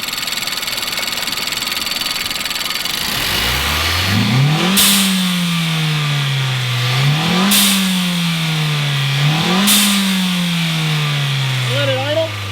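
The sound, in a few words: Nissan Sentra Turbo revving with blow off valve whoosh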